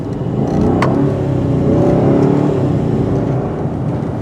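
A Bentley Mulsanne Speed's engine pulls in a smooth, rising drone from inside the cabin as the car accelerates, swelling loudly in the middle and easing off with gear changes, plus a brief high click near the start.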